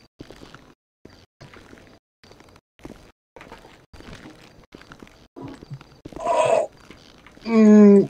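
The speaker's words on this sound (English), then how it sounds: "my cat wants something on my lap" A pet cat on a lap meows twice near the end, one short and one louder drawn-out call, close by, after a stretch of soft scattered rustling and faint sounds.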